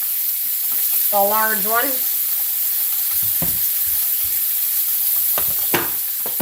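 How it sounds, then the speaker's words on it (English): Beef stew meat simmering and sizzling in a pot with onion, a steady close frying hiss under brief speech, with a few scraping stir sounds toward the end. "I'm going to give that meat a stir because it is simmering to the bottom"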